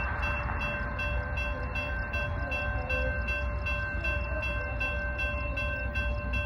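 A Union Pacific freight train of mostly auto racks sounds its steady multi-tone horn at a crossing in Queen Creek, Arizona, a loud sustained chord over continuous rumble as the train approaches.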